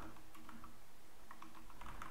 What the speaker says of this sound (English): If you want to change the password, you have to type